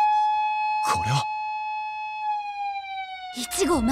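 An alarm siren in the video game Sakura Wars sounds as one long steady wailing tone running nearly the whole time, slowly dropping slightly in pitch, loud and close, with voices speaking briefly over it at the start and end.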